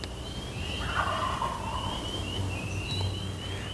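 Wild turkey toms gobble at a distance in spring, a few rattling bursts over steady low background noise in open air.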